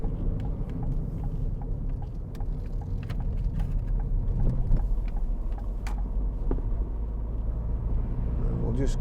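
A 2012 Ford Fiesta 1.4 TDCi diesel Zetec hatchback drives with a steady low engine rumble that swells slightly as it accelerates, heard from inside the car with road noise throughout.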